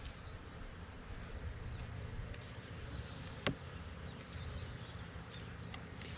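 Faint, steady buzzing of many honey bees around a hive outdoors, a soft continuous hum with one brief sharp click midway.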